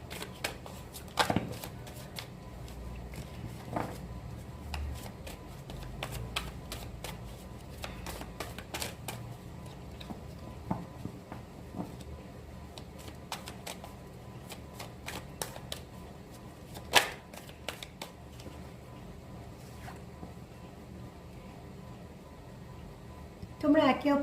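Tarot cards being shuffled by hand, a long run of soft rustling riffles and crisp flicks with occasional sharper slaps, fairly quiet and close, with a voice talking over much of it.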